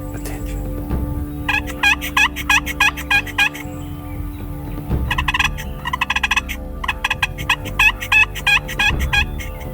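A big wild turkey tom near a river and cornfield gobbles loudly, with several rapid rattling gobble bursts in a row over a low steady background hum.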